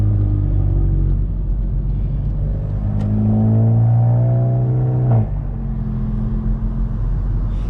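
A VW MK7 GTI fitted with a Mamba GTX3071R turbo drives from the cabin with a deep engine drone that climbs in pitch as it accelerates through a gear, then shifts and settles.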